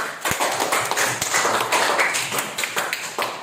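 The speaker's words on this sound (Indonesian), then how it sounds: "Oke, kita bikin aplaus dulu" A classroom of students claps together in brisk, dense applause, steady and fairly close, with no talk over it.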